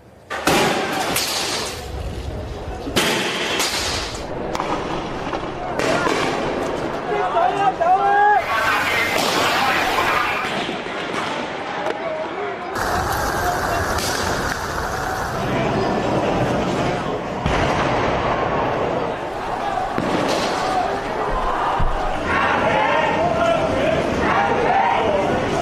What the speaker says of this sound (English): Riot police are using tear gas and water cannons to disperse the crowds